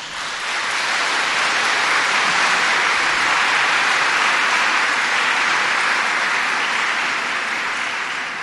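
Steady, dense applause fills a school radio broadcast as students are honored for top grades, a broad wash of many clapping hands that continues evenly for several seconds with no voices over it.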